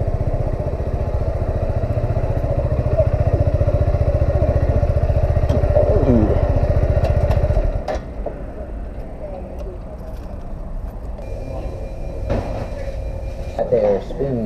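A motorcycle engine rumbles steadily up close for several seconds and then cuts off, leaving quieter clatter, rustling and scattered knocks.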